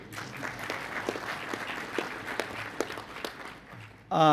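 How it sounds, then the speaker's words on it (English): An audience at a reception in Sydney claps for a long-serving Australian parliamentarian, a steady crowd applause of overlapping claps at moderate distance, followed by a short burst of speech at the end. "So I think that calls for an applaud too."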